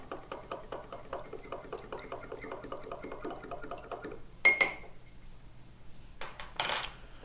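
A utensil scrapes and clinks rhythmically against a bowl while stirring vanilla into a keto granola mixture, a steady series of strokes, followed by a couple of louder clatters near the end.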